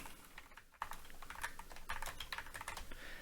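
Rapid typing on a computer keyboard, a quiet close clatter of keystrokes that briefly pauses, then carries on steadily for a few seconds without speech.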